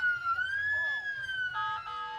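An ambulance siren at a town riverfest parade wails in a long rising and falling tone, fairly close and clear, then breaks into quicker shifting yelps toward the end.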